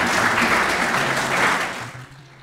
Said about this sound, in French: nous vous demandons de l'applaudir très chaleureusement